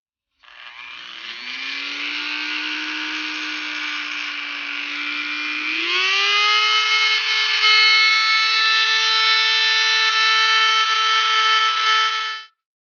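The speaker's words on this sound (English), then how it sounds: "like to do to sand down in these crevices right there is use a rotary tool of some sort." A rotary tool with a round sandpaper bit whines steadily while sanding into crevices of an ornate wooden furniture piece, a close continuous motor drone that rises in pitch midway, with no talking.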